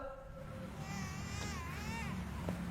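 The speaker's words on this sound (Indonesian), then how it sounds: "Saya dengar suara kayak suara tangisan bayi." A baby crying somewhere out of sight, thin wavering wails rising and falling over a low background hum, faint and fairly distant, with no one talking.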